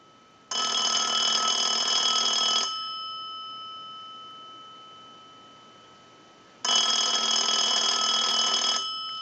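A Radio Shack Trim Line model 43-593 telephone bell, driven by a ring cycle from a line analyzer during repair, rings in two loud, steady bursts of about two seconds each, with a long silent pause between them.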